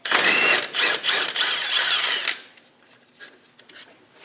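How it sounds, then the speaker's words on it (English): A ratchet fitted with a 15mm socket removes a sway bar link stud on a Chevrolet Express 2500 van. It makes a close, rapid metallic clicking for about two seconds, then a few softer, scattered clicks follow. "We're going to use a 15mm socket on bottom. We're going to remove the stud."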